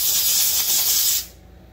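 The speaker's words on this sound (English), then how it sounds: "I'm washing everything with brake cleaner right now." A short, loud close hiss of brake cleaner sprayed onto parts of a McCulloch chainsaw during reassembly, a bright burst lasting about a second before cutting off abruptly.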